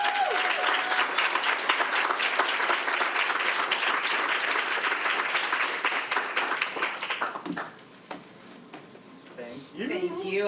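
Sustained audience applause for a speaker at a conference opening session, dense and steady for about seven seconds before thinning out, followed by a lone voice beginning to speak near the end.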